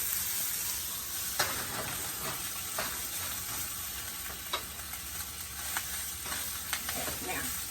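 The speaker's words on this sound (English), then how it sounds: "You just want the kimchi to get some warm on, get warm." Kimchi and Spam fried rice sizzles steadily in a hot pan, a dense continuous frying hiss with occasional louder crackles and pops, heard up close with no talking.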